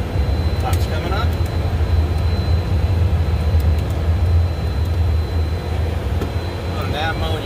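Embraer Phenom 300 jet engines at takeoff thrust during the climb, a steady loud roar and whine heard from inside the cockpit, with a pilot talking over it.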